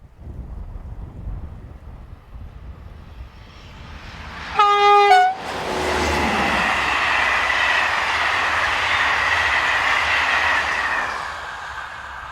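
Locomotive 26036 hauls a northbound passenger train from Cahors toward Paris, first a distant rumble, then a loud horn blast, followed by a sustained close roar of the passing train with wind buffeting the microphone.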